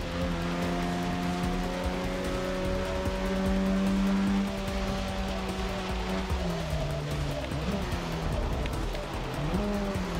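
A damaged race car in Forza Motorsport 6, engine roaring steadily up close with shifting pitch through gears and corners, a faint rough noise riding under the drone.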